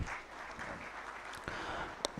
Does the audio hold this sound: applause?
yes